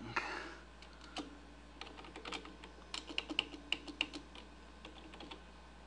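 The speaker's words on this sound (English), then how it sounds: "So I'm just typing this in so you can see" Computer keyboard keys click during a live chat session, sparse at first and then in quick irregular bursts, faint and close with no talking.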